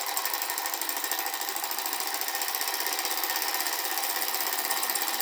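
A heat engine with a displacer cylinder runs continuously, making a fast, even mechanical chatter that stays steady and fairly close throughout.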